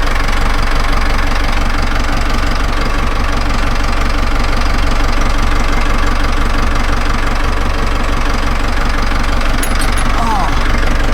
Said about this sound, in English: We're gonna jump into this engine, repeat the process, and let these run for a few minutes.